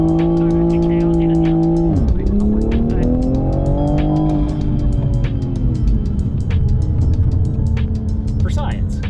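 A Toyota A90 Supra on flex fuel ethanol accelerates hard on a drive, its engine rising through gears with a strong harmonic whine and brief pitch drops at shifts, loud and close, with people talking over it.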